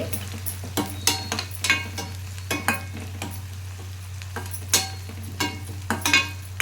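Pieces of fish coated in turmeric fry in a pan, a close, steady sizzle broken by repeated sharp scrapes and clanks as a utensil stirs them, with a low hum underneath.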